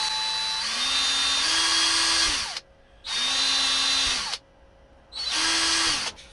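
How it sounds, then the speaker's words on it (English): Power drill with a 2 millimeter bit boring small holes for screws on a Traxxas Sledge part: three close whining bursts, each spinning up in pitch then cutting off, with short pauses between. "Now you have to drill. This is a 2 millimeter drill bit, so you make little tiny drill holes."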